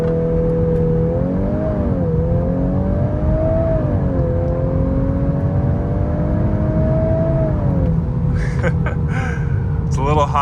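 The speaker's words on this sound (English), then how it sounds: "Got to do one last launch control." A 2021-on Volkswagen Golf R MK8 runs a launch-control start on a hot day, its engine droning loud and close with rising, stepping pitch through gear changes, then easing off near the end as brief other noises appear.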